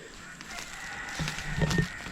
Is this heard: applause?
no